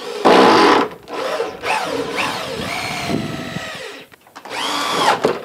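Cordless power drill fitted with a Torx bit driving a screw into a gutter fascia board, whirring in several short bursts that rise in pitch and then stop, close and loud, with a brief pause between runs.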